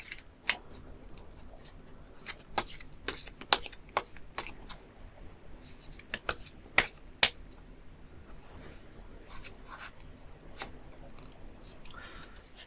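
Tarot cards are shuffled and drawn, giving a quiet run of soft, irregular flicks, snaps and ticks close by with small pauses between them, and no talking.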